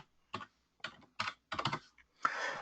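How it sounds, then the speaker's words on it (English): Keys clack on a computer keyboard in four quick, close bursts separated by short pauses, ending in a longer, denser run of keystrokes, with no talking. "I'm going to type in Tony Robbins."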